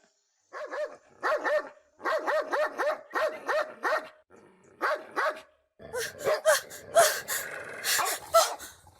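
A dog barks repeatedly in quick bursts, close and loud, with brief pauses between volleys, growing more frantic and mixed with other noise near the end.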